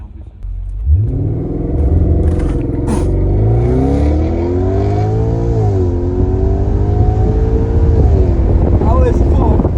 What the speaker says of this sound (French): On se tape un 0 à 100 là rapidement.